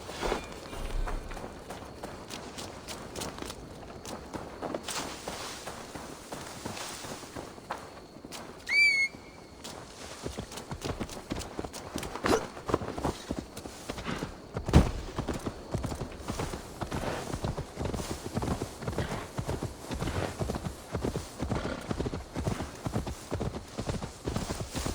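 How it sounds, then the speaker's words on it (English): Horse hooves clip-clop steadily along in Assassin's Creed Valhalla, a brisk rhythmic walk with brief pauses, accompanied by a short whistle and a faint whinny. "Now to deliver Magni his horse."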